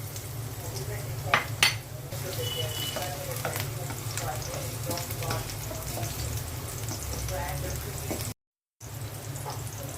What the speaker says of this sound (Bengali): ঢেঁড়স ভাজার জন্য পেঁয়াজ দিয়ে দিচ্ছি।